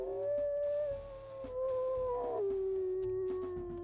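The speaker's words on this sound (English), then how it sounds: "Very deep howl in his secondary." A wolf in the video game WolfQuest gives a long, deep, tonal howl that slides downward, loud and close over a low game soundtrack.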